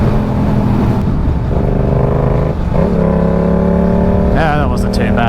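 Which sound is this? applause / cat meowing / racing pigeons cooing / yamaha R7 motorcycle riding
yamaha R7 motorcycle riding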